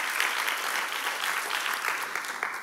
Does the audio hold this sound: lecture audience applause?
yes